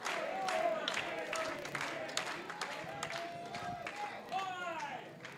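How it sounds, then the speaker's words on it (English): Crowd at an Inspire Pro Wrestling match between Ricky Starks and MJF clapping and cheering steadily to rally behind Starks, a broad noisy roar with scattered shouts and whistles running throughout. "This crowd trying to rally behind Ricky Starks here."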